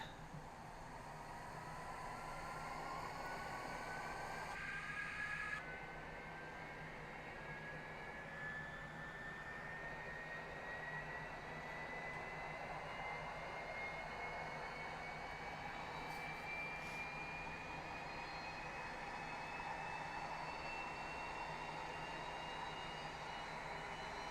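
KC-130 aircraft engine in the flight simulator DCS, a steady, even propeller-engine drone with a slowly rising whine that holds for the full length.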